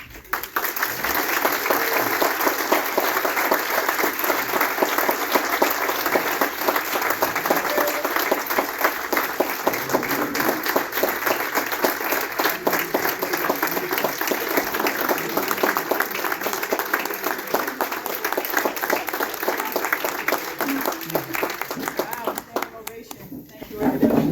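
Sustained applause from an audience at a drum and bugle corps hall of fame ceremony fills the hall steadily as an award recipient's daughter is welcomed, with dense clapping that holds for over twenty seconds before tapering off.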